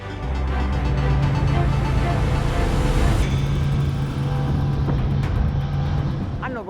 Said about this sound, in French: J'ai donné un peu plus de gaz, je suis à 3800 tours minute